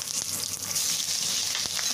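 Minced ginger and garlic sauté in a hot pan for a Chinese-style clam dish, a steady close sizzle and crackle of frying with a couple of brief stirring knocks.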